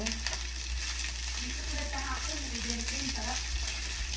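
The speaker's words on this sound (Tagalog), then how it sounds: "ipa-fried rice natin siya using the oil ng chicken longganisa" Fried rice sizzles steadily in chicken longganisa oil in a pan, a continuous close frying hiss with stirring, while a voice talks faintly underneath.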